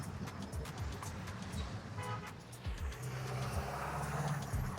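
Busy street traffic with passing cars and short honking car horns, a steady roadway rumble heard fairly faintly around the listener, with brief horn toots standing out.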